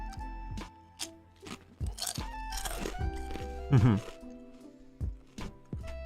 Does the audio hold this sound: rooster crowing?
no